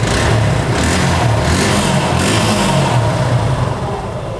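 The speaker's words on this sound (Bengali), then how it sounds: "এবার চেষ্টা করব বাইকটা স্টার্ট করে আপনাদেরকে সাউন্ডটা শোনানোর," A Suzuki Gixxer Monotone motorcycle engine runs steadily at close range in new condition, a continuous loud mid-pitched drone with a slight surge or two and no talk over it.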